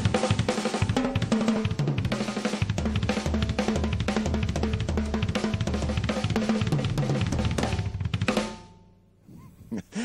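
Fast drum fills played on a full kit, hand and foot patterns grouped in twos, fours and sixes, rolling loud and dense for about eight seconds before cutting off into a brief ringing decay.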